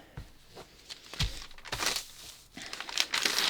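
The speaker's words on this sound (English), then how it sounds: "I'm just going to fold my power mesh, you know, along one end here until I have a wide enough piece to cut out my center back" Power mesh fabric is folded and handled on a sewing table, giving soft crinkling and rustling with a few sharper brushes and shifts, close by and without talk.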